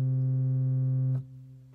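A low, steady note from the lowest pipe of an organ's 4-foot Prestant stop, a big metal pipe, holds for about a second, full and broad with rich overtones, then cuts off abruptly.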